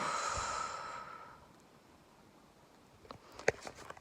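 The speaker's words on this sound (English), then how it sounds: "We'll take one more breath in, guys. Hold it. And exhale." A person lets out a long exhale after holding a breath, a soft airy rush that fades over about a second and a half, followed by quiet and a few light clicks.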